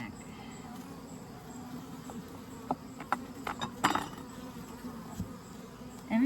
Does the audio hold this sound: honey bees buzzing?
yes